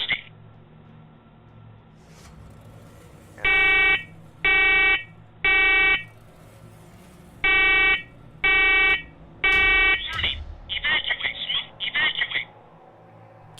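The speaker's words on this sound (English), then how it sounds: "Carbon monoxide detector." A carbon monoxide detector beeps in two sets of three loud, evenly spaced electronic tones, followed by faster chirping bursts, indoors in a basement with faint background noise.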